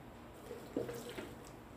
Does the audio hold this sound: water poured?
yes